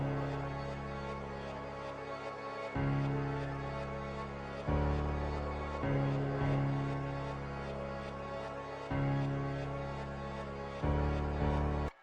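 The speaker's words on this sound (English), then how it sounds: "So we got this piano out of Nexus and it sounds like this." Piano sound from the Nexus plugin playing a slow melody of sustained chords and notes, changing roughly every two seconds, clean and close with no voices over it.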